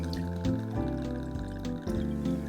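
River's End gin, a traditional-style gin, trickles from a bottle into a measure for a cocktail, a soft liquid pour with light splashes, heard quietly and alone.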